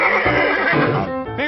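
A horse whinnies loudly and clearly for over a second, with a wavering, descending call and a short second burst at the end, heard alone in a blacksmith's shop setting.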